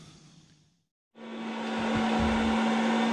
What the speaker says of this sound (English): The grid ties are running here and they can be a little loud.